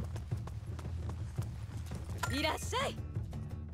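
Horse hooves clip-clop steadily in the Attack on Titan 2 video game, a quick rhythmic patter joined by a short whinny near the end, with speech alongside.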